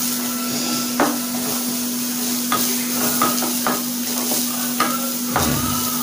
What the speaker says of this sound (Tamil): லைட்டாக முட்டைக்கோஸ் வதக்கினதுக்கு அப்புறம் கேரட்டை கலக்குறாங்க